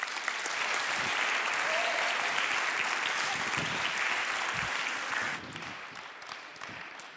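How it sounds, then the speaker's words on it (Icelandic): Audience applause welcoming a magician at a church service, a full, steady burst of clapping that holds strong for about five seconds, then drops to a lighter, thinning patter. "gefum honum gott klapp"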